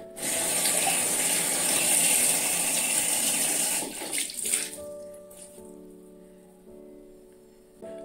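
Tap water gushes steadily from a faucet for about four seconds as hands and face are wetted, then cuts off, leaving a faint tonal hum and quiet drips.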